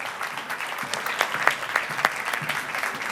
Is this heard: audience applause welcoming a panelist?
yes